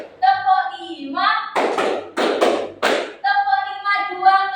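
Counted hand claps in a classroom clapping game, four or five sharp claps in a quick run between stretches of a woman's speech.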